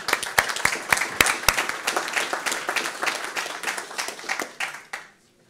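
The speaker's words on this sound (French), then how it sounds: "On l'applaudit bien fort." Audience applause at a French business gathering of Aisne shopkeepers, dense rapid clapping with sharp individual claps standing out, loud and steady before stopping abruptly near the end.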